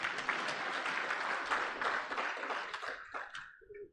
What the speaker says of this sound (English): Those who wanted to clap can clap better.